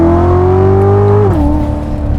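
A loud 2019 Chevrolet Corvette Z06 engine revving hard, its exhaust rising in pitch, then dropping as it shifts gear and pulls on, close and sustained.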